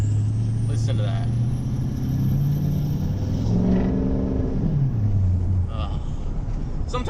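A diesel pickup truck with a 6.0 engine and a 4-inch exhaust idles and revs, a deep steady rumble that rises and falls, close and loud, while someone talks over it.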